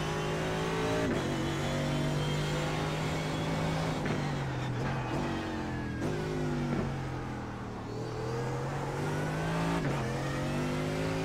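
A race car engine in the iRacing sim drones and revs continuously through a qualifying lap, its pitch rising and dropping with gear shifts and corners, loud and close with no talk over it.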